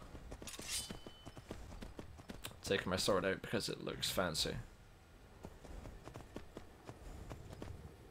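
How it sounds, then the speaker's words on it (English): Hooves of Peanut Butter, a cream-coloured horse in Skyrim, clip-clop in a steady rhythm. A person talks over the quiet, regular steps, and the talking briefly gets louder in the middle. "Peanut butter is my lovely cream horse."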